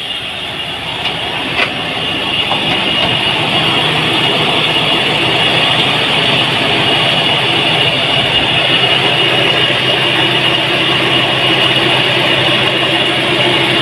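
A car engine runs loudly and continuously for several seconds, a steady dense droning rumble close by with no talking over it.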